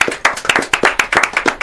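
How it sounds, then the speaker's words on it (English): Applause for a guitarist and keyboardist, winners of a rock category at a music awards, sounding as a small group clapping in a quick, distinct rhythm of close, sharp hand claps with no talk. "Let's give them a round of applause."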